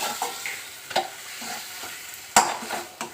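Spice masala is stirred and fried in a wok, with a soft, close sizzle broken by sharp, irregular spatula scrapes against the metal.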